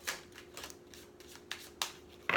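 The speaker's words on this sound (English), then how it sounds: "I'm just going to finish the shuffle" Quiet riffling and soft slaps of tarot cards being shuffled, several brief bursts in an irregular rhythm, close by and with no talking.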